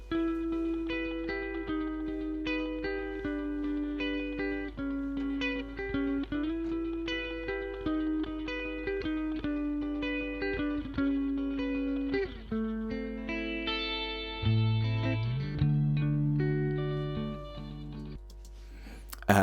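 Electric guitar picks a steady melodic part through a pitch blender effect: continuous rhythmic notes with rich harmonics over a constant low hum, shifting into bent, wavering tones near the end.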